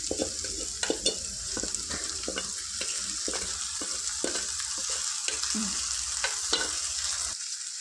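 Boiled chana dal and peeled boiled potato fry in a pan with a dense, continuous sizzle, while a spoon scrapes and knocks through it in uneven strokes, close by, until the sizzle cuts off near the end.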